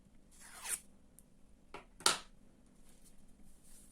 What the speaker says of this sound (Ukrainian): беремо ножиці і закручуємо